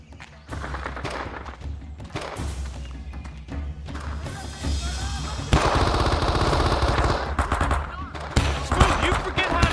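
Gunfire rattles through a Vietnam War firefight in the video game Men of Valor: dense machine-gun bursts and single rifle shots, close and loud, with heavier crashes and thuds mixed in. Soldiers shout over the shooting.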